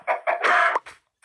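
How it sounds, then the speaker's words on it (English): A Minecraft chicken clucks in short bursts: two quick clucks, then a longer squawk and a brief trailing cluck, close and clear with no talking. "Oh, chicken."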